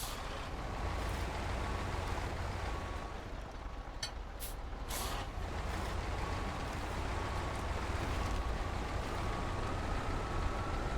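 Bandit truck engine in the off-road driving game Snowrunner, a steady broadband drone running continuously and fairly loud throughout, with a brief hiss-like burst midway.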